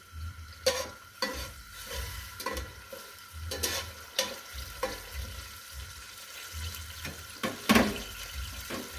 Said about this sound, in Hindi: ज़ीरे को हम ब्राउन होने देंगे